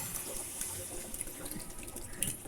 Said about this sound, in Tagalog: Lagyan natin ng tubig na hanggang leeg.